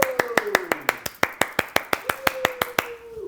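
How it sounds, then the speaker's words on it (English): A man on a conference stage claps his hands in a steady, even rhythm of about a dozen sharp claps, loud and close, while a descending tone sounds faintly behind. "I just sound like a jackass clapping my hands up here"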